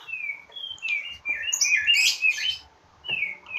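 A songbird being readied for a singing contest after a feed of ant eggs chirps and warbles in quick bright bursts, with some rapid trills, close and clear against a quiet background.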